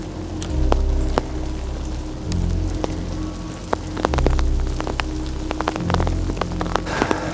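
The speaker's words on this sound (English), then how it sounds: "here comes a little more rain" Rain falls outdoors near a fountain and pagoda, pattering in scattered taps and drips on nearby surfaces over a low, pulsing hum, with no voices heard.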